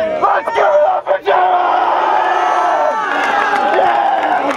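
A loud crowd at a park jam roars and cheers continuously, with shouts and whoops rising over the din for several seconds.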